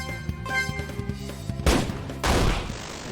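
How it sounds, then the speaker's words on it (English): Two loud shotgun blasts in the RPG Maker horror game Fallen, the first at mid-clip and the second a moment later with a longer noisy tail, set against soft melodic game music. "shotgun is way more effective than the handgun"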